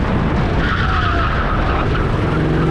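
A go-kart skids through a spin during a qualifying session at a kart grand prix at NJMP, giving a loud, close, continuous tire scrub and squeal that holds steady across the whole short stretch with no voices.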